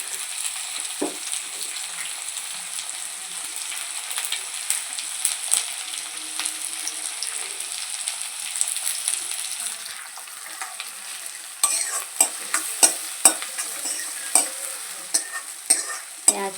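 Onion sizzles and crackles steadily in hot oil with garlic and ginger, with occasional stirring scrapes and louder spatters toward the end.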